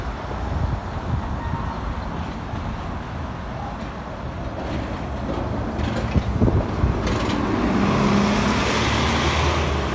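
Traffic on a city road with a Q10 city bus coming down the street, a steady broadband roar of passing cars and heavy engine noise that swells slightly toward the end, continuous and fairly close, with no talking.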